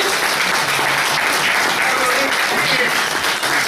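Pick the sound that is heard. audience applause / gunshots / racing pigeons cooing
audience applause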